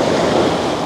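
Sea waves washing over rocks at Sitapur Beach on Neil Island in the Andaman Islands, a loud, steady roar of surf with wind that fills the short moment alone.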